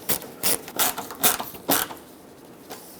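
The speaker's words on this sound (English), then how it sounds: "With the top installed, let's get the two screws back in." A Phillips screwdriver tightens headlight screws on a Ford F-350, making close, short scraping and ratcheting rasps in a few quick bursts, then falling quiet.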